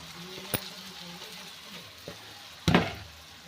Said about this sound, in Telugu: అన్నం వేసుకొని బాగా కలుపుకోవాలి ఫ్రెండ్స్.